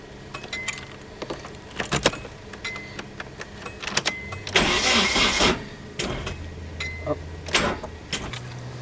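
A car, jump-started from a Golf, is heard from inside the cabin: keys jangle, then the engine cranks and briefly catches with a louder surge in the middle, amid clicks and rustling. A further short crank follows.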